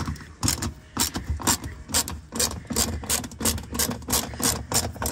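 A Torx 10 driver unscrewing the bumper screws on a Vauxhall Corsa D, heard as a rapid series of close, sharp clicking ratchet strokes in a steady rhythm, with no talk.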